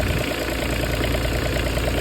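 Kubota diesel in a Bobcat 323 mini excavator idling steadily after a cold start, a close, even knocking chug with a faint vibration and no talk.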